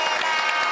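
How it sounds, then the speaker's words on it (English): A brief burst of studio audience applause on a live comedy panel show, dense and steady clapping throughout the short moment. "can I have a warm round of applause for our Dalek"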